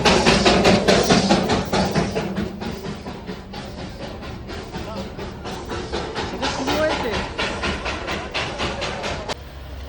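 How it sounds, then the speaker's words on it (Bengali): A toy train pulls into Darjeeling station, steam hissing and short bursts repeating over a busy crowd, with people talking nearby throughout. "ট্রেন চলে এসেছে।"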